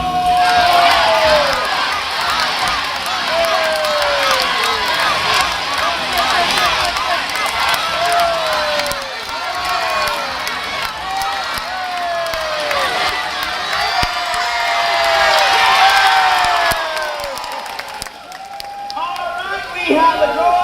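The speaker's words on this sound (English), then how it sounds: "let's try to cheer louder because the louder you cheer, the faster these birds are going to run" A crowd at a bird show in Singapore's Jurong Bird Park cheers loudly and continuously, with shouts, whoops and children's voices swelling and dipping throughout, then fading near the end as an announcer's voice returns.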